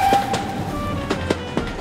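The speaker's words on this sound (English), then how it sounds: "let's see the train drive over the points" A train rumbles along with a steady hum, its wheels clacking sharply several times as it rolls over track points.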